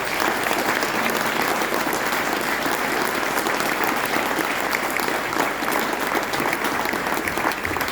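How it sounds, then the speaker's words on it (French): Sustained, dense audience applause from a crowd at a political campaign speech for a municipal election list in Tarbes, steady and loud throughout with no talk over it. "On peut l'applaudir."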